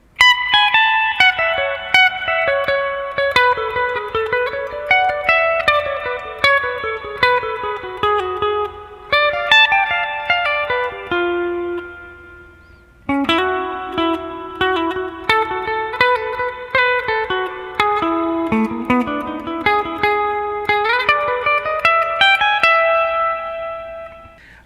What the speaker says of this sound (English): Then we have another improvised solo over the next chords, the second part of the chorus.